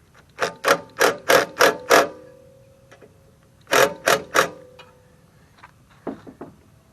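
Ratchet wrench clicking on the intake bolts of a 21-inch Murray 450e mower: one run of six quick close ratcheting bursts, a pause, three more, then a few fainter clicks.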